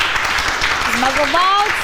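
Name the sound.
audience applause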